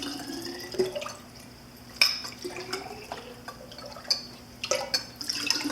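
Kombucha ladled into glass bottles with a 4-ounce Vollrath ladle, giving soft trickles and drips with a few sharp clinks of the ladle against glass, fairly quiet and close.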